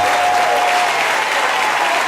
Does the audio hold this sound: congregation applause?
yes